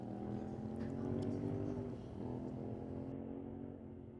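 A drag race boat engine roars loud and steady at a test and tune session, its rumbling drone dipping briefly as it comes off the throttle before holding on under a faint distant voice.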